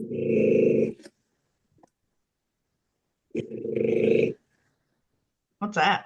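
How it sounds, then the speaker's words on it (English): A French bulldog snores indoors in two long, loud, buzzing rattles a couple of seconds apart, then a person briefly speaks at the end. "Is your dog snoring?"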